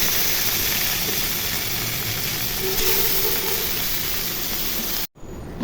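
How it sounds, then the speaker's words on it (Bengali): Small taki fish, coated in turmeric and salt, fry in hot oil with a loud steady sizzling hiss that continues almost unbroken and cuts off briefly near the end. "তেল গরম হয়ে গেছে, এখন মাছগুলো ভেজে নিব।"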